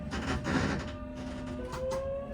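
An old traction motor on a Southeastern Class 466 electric train whines steadily as it runs, with a rising tonal hum over a rumbling, rattling carriage background.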